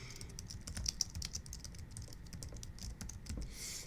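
Typing on a computer keyboard during a live coding session on an old jQuery web app, a steady patter of quiet, close key clicks with no talking.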